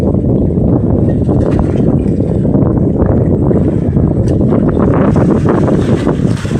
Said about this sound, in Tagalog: Grabe yung alon guys